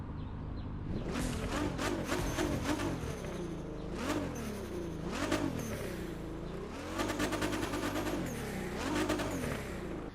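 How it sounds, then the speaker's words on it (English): A 2020 Nissan GT-R Nismo in The Crew 2 revs up and shifts repeatedly, its engine note climbing and dropping through several gear changes, loud and close with no voices. "why don't we take a listen to this engine?"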